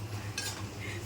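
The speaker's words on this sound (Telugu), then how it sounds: "అల్లం వెల్లుల్లిపాయ పేస్ట్ అయితే వేగిపోయింది." Ginger garlic paste frying with onions in a pan sizzles softly under a low steady hum, with a brief scrape of stirring partway through.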